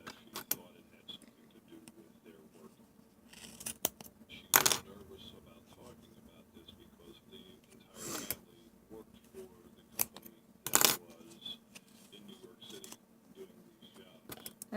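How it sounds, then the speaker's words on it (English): Scissors snip through yarn while a pom-pom is made, giving a few sharp, separate cuts spread out over quiet handling noise. They sound close and fairly faint, with a voice speaking softly now and then. "now as you cut, you're going to slowly thread this in between"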